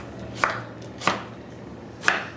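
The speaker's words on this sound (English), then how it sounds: "we are now going to take our rhubarb, freshly cut, small little vertical slices like this." Three separate knife strokes cut fresh rhubarb stalk into small slices on a board, each a crisp close thunk spaced about half a second apart, over a faint background hum with no talking.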